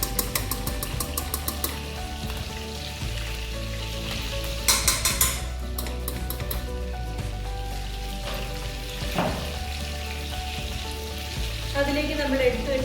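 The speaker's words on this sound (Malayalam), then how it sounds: "മുഴുവൻ ചിക്കനും നമുക്ക് ഇതുപോലെ ഫ്രൈ ചെയ്തെടുക്കാം" Chicken pieces fry in a pan for biryani with a loud, continuous crackling sizzle up close and occasional stirring and scraping sounds.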